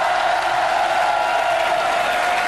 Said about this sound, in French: Et ça, vous pouvez l'applaudir.